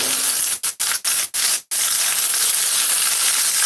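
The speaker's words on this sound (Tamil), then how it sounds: "வெண்டைக்காய் வந்து வசக்கிறோம்" Okra sautéing in a pan sizzles loudly with a bright, dense hiss, broken by a few brief gaps early on from stirring, then continuing as a steady frying sizzle.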